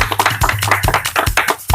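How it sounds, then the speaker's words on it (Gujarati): A crowd at a Gujarati comedy show breaks into applause: dense, uneven hand claps, with sharp individual claps standing out over the steady patter, close and fairly loud. "તાળી પાડો, ગડગડાવો."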